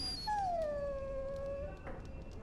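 A dog in the video game Dragon Age Origins lets out a drawn-out, high whine that slides gently downward for over a second, then fades over a steady low background hum.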